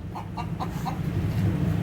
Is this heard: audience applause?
no